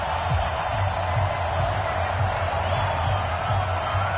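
A stadium crowd in an EA Sports NFL game, Carolina Panthers at Atlanta Falcons, keeps up a steady roar of cheering and murmur at an even level throughout.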